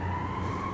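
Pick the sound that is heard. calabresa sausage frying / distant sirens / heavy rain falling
distant sirens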